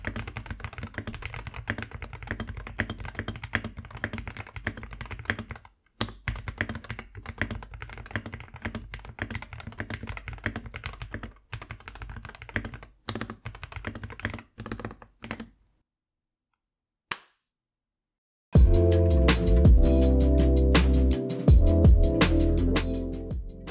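Typing on a Wooting 60HE+ keyboard with pre-lubricated stabilizers gives a deep, muted run of close keystrokes that pause briefly before a louder final burst.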